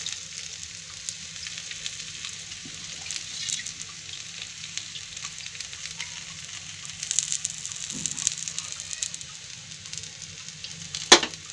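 Gentle, steady sizzle from a hot griddle as flatbread cooks, with a couple of faint taps and a sharp click near the end.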